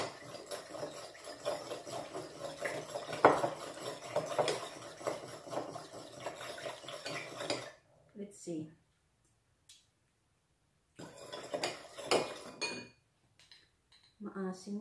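A spoon clinks and scrapes against a bowl as okoy fritter batter with sugar is mixed. The stirring is close and fairly soft under a person talking, then stops for a quiet gap before brief clinks resume.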